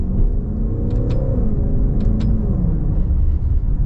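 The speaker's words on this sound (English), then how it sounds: "those gear shifts are just so smooth, but quick too" A 2024 Maserati Levante V8 Ultima running in manual paddle-shift mode: a loud, steady engine rumble heard from inside the cabin, its pitch falling and rising as gears change, with faint high ticks from the paddles.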